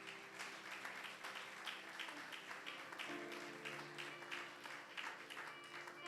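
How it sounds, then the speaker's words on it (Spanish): Church congregation at a praise and worship service clapping for the young people, a quiet, rhythmic wash of hands with sustained musical tones underneath. "Le damos un aplauso a todos esos jóvenes."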